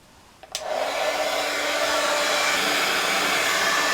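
Heat gun blowing hot air to melt embossing powder on a wood slab ornament, a click then a sudden steady loud whooshing roar that holds constant, with no talking.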